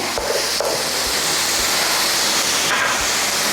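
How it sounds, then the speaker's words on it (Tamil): Steady sizzling hiss of finely chopped onions sautéing in a hot pan, continuous and fairly loud, with a couple of faint clinks. "இப்போ வெங்காயம் வந்து நல்லா வதங்கட்டும்."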